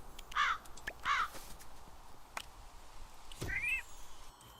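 A cat meows a few times in the video game Moonlight Peaks, short calls repeated with gaps between them, with a crow-like caw near the end and no talking.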